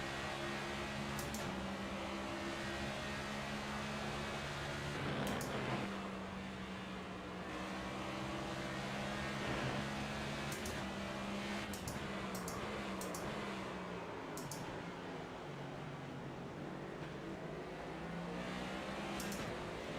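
A supercharged Ford Mustang Dark Horse races around Sonoma in a video game, its engine droning steadily through long pulls with gear-change dips and rising revs, quiet but continuous with no talking.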